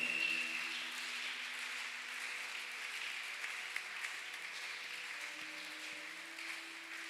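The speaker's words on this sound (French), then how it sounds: "Est-ce que tu peux applaudir là où tu es?" A church congregation at a Tuesday worship service applauds together, producing a soft, continuous wash of clapping heard from a distance over a faint low hum.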